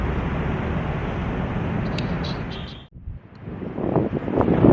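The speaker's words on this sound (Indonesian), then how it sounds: "Nah ini ada anginnya lumayan, ini lumayan. Nah ini lumayan deras teman-teman." Wind buffets a BOYA BY-MM1 microphone on a Canon EOS M6 outdoors, a steady loud rumbling roar that drops briefly before gusting back even stronger.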